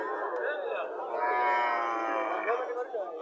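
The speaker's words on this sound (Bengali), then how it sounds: "দেশি গাভী" A domestic cow lowing at a village cattle market at Chandi Mura bazaar in Barura, Comilla, one long drawn-out moo rising and falling over crowd chatter.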